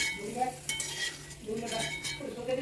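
Grated potato for sabudana khichdi frying in hot oil, a soft continuous sizzle with occasional spoon scrapes against the pan, fairly quiet and close.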